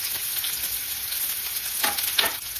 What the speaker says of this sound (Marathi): कांदा छान लाल होईपर्यंत छान भाजून घ्यायचा आहे तेलामध्ये